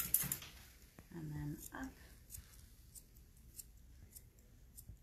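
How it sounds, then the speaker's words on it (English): Scissors snipping fur on an Angel Wing Opson cat during a grooming demonstration, with several quiet, close cuts spaced among soft handling noises while a person talks quietly. "here I'm like almost going down to the skin with the scissor"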